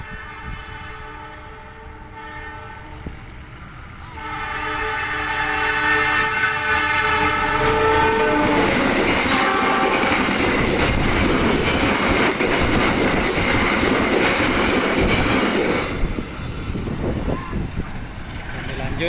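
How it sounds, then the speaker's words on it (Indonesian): A train rumbles past close by at a level crossing in Indonesia with rhythmic clickety-clack of wheels on rails, a horn sounding early on, and people talking in the background. "ada kereta api yang melewat"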